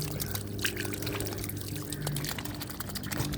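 Water pours and trickles out of a flushed sprinkler line during a repair, a steady, fairly quiet gushing and splashing that holds unbroken throughout.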